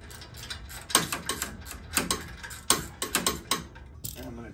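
A ratchet clicks in quick, repeated bursts as bolts are tightened on a motorcycle transmission during a Screaming Eagle cam installation, close and fairly quiet, with short pauses between strokes.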